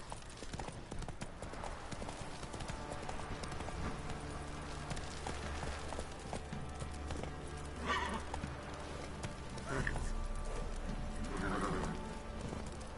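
Roach the horse from The Witcher gallops with a steady, close clip-clop of hooves that runs through the whole stretch, with a couple of whinnies and game music underneath.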